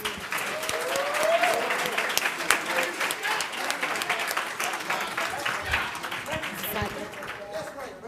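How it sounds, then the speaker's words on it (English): Audience applause for program ambassadors at a promotion ceremony: dense, steady clapping from a crowd that carries through the whole stretch, thinning near the end, with a voice briefly audible underneath. "can we give our ambassadors another round of applause?"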